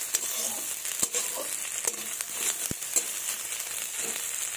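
Onions fry in a pan with a steady close sizzle throughout, broken by a few sharp clicks as they are stirred.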